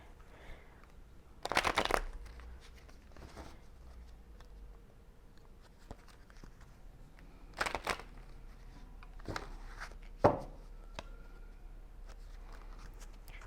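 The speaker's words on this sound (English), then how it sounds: "Right now I just feel like I need to shuffle a bit more," A deck of tarot cards is shuffled in short, crisp riffling bursts separated by quiet pauses, close and clear with no talking.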